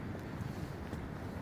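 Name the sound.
wind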